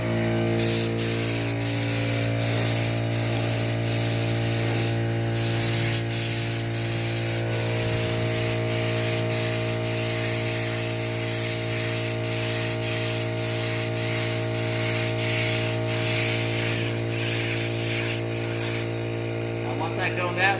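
A spray gun applies paint to a DIY farmhouse buffet in a continuous hissing blast, broken by short pauses where the trigger releases, with a steady low hum underneath.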